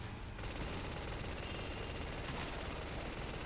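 Constant, quiet gunfire at a boss in the Black Ops 3 Zombies Spyro 2 challenge map, dense and unbroken like sustained automatic shooting for several seconds.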